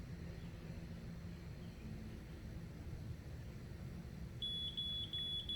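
Steady low hum and hiss, then a faint high beep from a grade-measuring level detector repeating in quick pulses during the last second.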